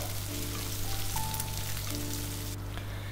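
Onions and curry leaves fry in a pan for Chettinad chicken gravy, a dense, even crackling sizzle running throughout at a steady level, close by, with a faint tone humming in the background and no talk.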